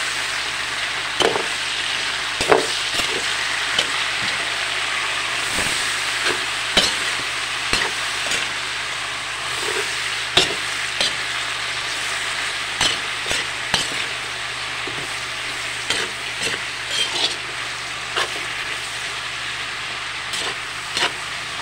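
A spatula scrapes and stirs chorizo and pechay greens in a sizzling frying pan, a steady fry hiss with repeated clanks of the utensil against the pan, close and loud.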